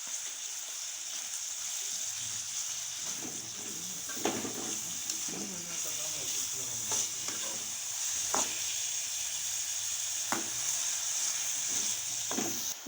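Carrots frying in oil with sugar in a pan for an Afghani Kabuli pulao, a steady bright sizzle throughout with sharp scraping stirs of a spoon roughly every couple of seconds, close and loud.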